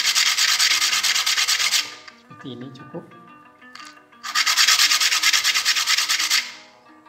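Steady gritty rasping of grit-80 sandpaper smoothing the edge of a brass, copper and nickel silver ring, two long bursts with a quieter gap where someone speaks briefly and something clinks.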